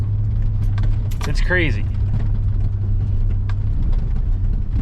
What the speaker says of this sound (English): I'm driving right across this cornfield in 2-wheel drive right now.